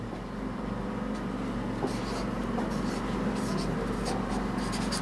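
Numbers are written out while teaching place-value addition, a continuous faint scratching of the writing implement over a steady low background hum.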